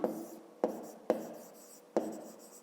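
Pen or pencil writing by hand on paper, with four short scratchy strokes, each a sharp onset fading into a brief scrawl, close and quiet with no talk.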